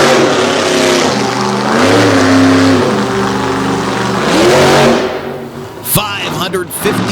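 A 557-cubic-inch monster truck engine under a 69 GMC body revs loudly at an indoor event, sustained roar with rising and falling pitch, then dropping off into a few sharp bursts near the end.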